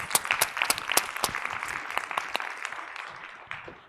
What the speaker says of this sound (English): there is a resounding round of applause for you in the room